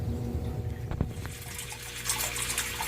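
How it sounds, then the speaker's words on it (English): Fresh water poured into a new freshwater aquarium tank for African cichlids, a steady close gush and splash that brightens into a hissing rush partway through, with a couple of knocks and no voices. "I'm going to go ahead and start filling the tank with water."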